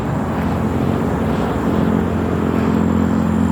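A motorcycle engine runs loud and close on a road, a steady droning roar with no break, as if riding along or passing right by.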